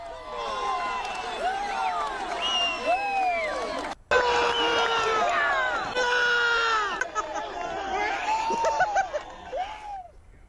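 A large crowd of Indian cricket fans cheers and shouts excitedly after India's win over Pakistan, with many voices whooping and calling out over one another in a lively, sustained roar.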